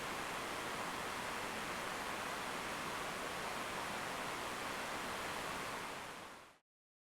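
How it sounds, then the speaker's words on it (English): Ambience match background noise profile generated in SpectraLayers 8: a steady, dense broadband hiss like soft pink noise, even and unbroken for several seconds before cutting off abruptly. "I will solo the Ambience Match track and play it for a few seconds."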